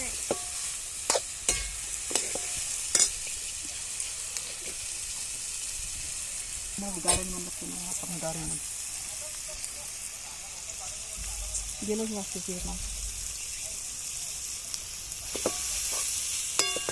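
Cauliflower (gobi) sabzi frying in a pan in a farm kitchen, a soft steady sizzle under sharp clinks and scrapes of a spoon stirring, with quiet voices talking in the background at times.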